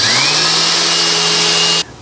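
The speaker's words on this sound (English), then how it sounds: "And that is just the initial 80 grit sanding." A power sander drones loudly and steadily across wood with 80 grit sandpaper while building a stereo cabinet, then cuts off abruptly near the end.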